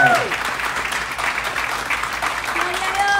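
Steady, fairly loud applause from a congregation at a pastors' wedding ceremony in California, with voices speaking over the clapping.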